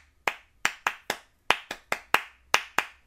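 Rhythmic hand clapping of the kind used in a German football crowd chant, ten sharp close claps in an uneven, syncopated pattern with brief pauses, no voices.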